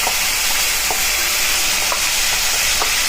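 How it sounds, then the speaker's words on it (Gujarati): Asafoetida and ground garlic sizzle in a spoonful of hot oil as a tempering for a Punjabi-style vegetable curry: a continuous, close, loud hiss with faint light taps running through it. "સીધો વઘાર જ કરશું। 1 ચમચી ઉપર હિંગ નાખશું"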